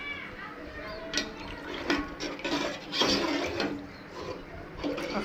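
Tamarind juice pours into the pan of an Andhra-style fish curry once the tomatoes have softened. The liquid splashes in uneven bursts, close and moderately loud.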